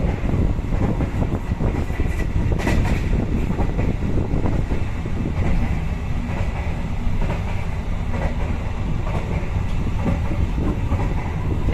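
Steady rumble and rattle inside a moving economy-class carriage on an Indonesian train, near the coupling to the generator car, with continuous low roar and clickety-clack of wheels over rail joints throughout, no voices.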